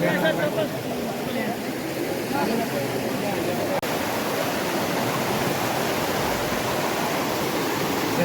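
River water rushing at the Kali Gandaki confluence in Nepal, a loud continuous broadband roar filling the whole stretch with no breaks, close and steady.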